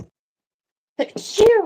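A sneeze bursts out once near the end, loud and close, preceded by a quick intake and followed by a short voiced tail, with a brief spoken sound just before it.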